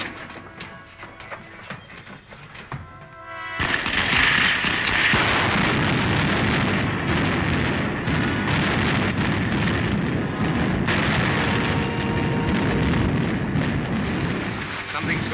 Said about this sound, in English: Fire the starting rockets.